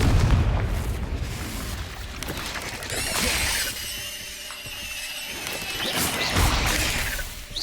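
Confringo fire spell blasts in Hogwarts Legacy, heavy booming impacts with crackling bursts amid busy combat effects, loud and close, with a voice calling spells at moments.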